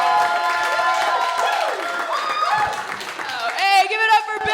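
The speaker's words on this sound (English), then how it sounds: "I want a nice Chicago round of applause for the super funny Shannon Knoll" A live comedy show crowd in Chicago applauds and cheers for comedian Shannon Knoll, with a steady wash of clapping and excited shouting voices that swells louder near the end.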